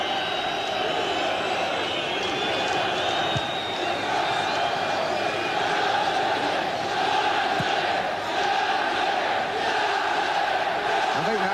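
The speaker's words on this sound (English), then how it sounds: "supporters are trying to rally their side" Football supporters at Old Trafford during Manchester United v Aston Villa in December 1993 roar and chant to lift their team, a dense, continuous crowd din with a commentator talking over it throughout.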